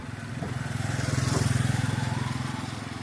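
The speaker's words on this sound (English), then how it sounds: "the motorbike is coming" A motorbike passes along a wet, rain-soaked street in Luang Prabang, its steady buzzing engine swelling as it approaches and then easing slightly, heard alone at moderate distance.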